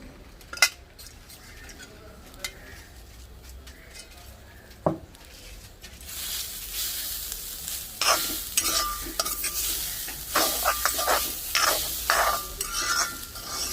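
Grated coconut frying in coconut oil with cloves, cardamom and mace for potti curry, starting with scattered stirring and spoon taps, then a louder sizzle with bursts of scraping and stirring in the second half.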